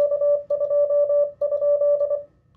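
Morse code call sign sent on CW by an amateur radio operator at a special event or DX station: a single steady, clean tone keyed in quick dits and dahs in two bursts, close and loud, with no voices.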